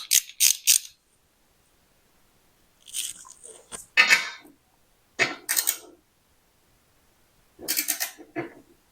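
A torque wrench tightens a VW Type 1 engine case bolt in a series of separate bursts of ratcheting clicks and metallic scraping, close up, with silent gaps between the pulls.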